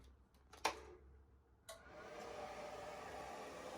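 An Antminer crypto mining machine powers up after a click, its cooling fans spinning up into a loud, steady broadband whirr that fills the rest of the clip.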